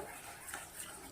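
A spoon stirs coconut idli batter in a bowl, giving faint, soft scraping and mixing sounds at close range.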